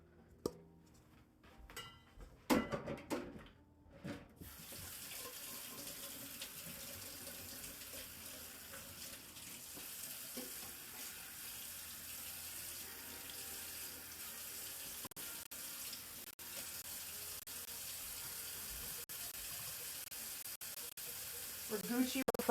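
Tap water runs steadily into a mixing bowl left to soak during a home Christmas cookie baking session, a continuous broadband splash and hiss lasting most of the stretch after a few brief clatters at the start.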